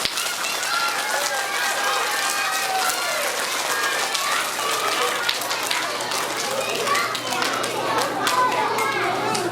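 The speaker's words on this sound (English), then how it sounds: "Let's give them a big round of applause." Schoolchildren at an assembly clap together, a steady crowded patter of many small hands mixed with high children's voices and chatter throughout.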